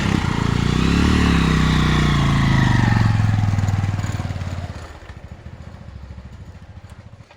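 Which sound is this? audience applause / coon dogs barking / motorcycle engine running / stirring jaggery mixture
motorcycle engine running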